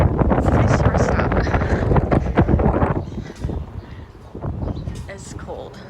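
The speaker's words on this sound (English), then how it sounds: "It is so windy right now." Heavy wind buffets the microphone in loud, rumbling gusts at an Arizona rest stop near Tucson, with a voice speaking over it; the roar eases slightly toward the end.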